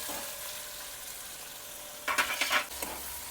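Spice masala sizzles steadily in hot oil for a sweet-and-sour farali moraiya khichdi, with a brief burst of louder stirring scrapes near the end.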